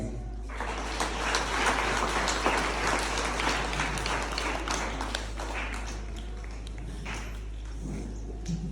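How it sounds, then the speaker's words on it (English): Steady applause from a crowd, dense clapping that fills the whole stretch at an even level with a faint hum underneath. "I want us all to clap hands for our prefects for one reason."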